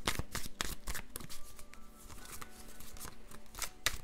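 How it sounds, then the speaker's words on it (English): Triple Goddess Tarot cards being shuffled and pulled from the deck, a run of quick riffling flutters and soft card slaps with brief pauses, close and fairly clear. "I'm gonna pull one more card from the Triple Goddess Tarot, this deck"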